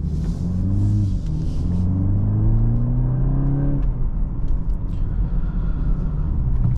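A 2024 BMW 330i xDrive on the road: the engine revs climb and then settle into a steady interior rumble with tire and road noise, heard from inside the cabin with no talking.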